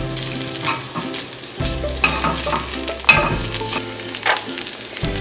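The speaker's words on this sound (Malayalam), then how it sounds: "ഇനി നമുക്ക് നമ്മുടെ ഇഞ്ചി ഇടാം." Finely chopped ginger sizzles in hot coconut oil in a pan for a chicken curry, a steady close frying crackle broken by repeated scraping stirs of a spoon against the pan.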